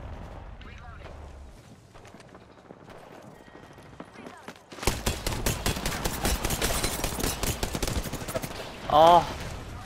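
Rapid bursts of video game gunfire crackle loudly for several seconds, following quieter scattered shots, with players talking over the action.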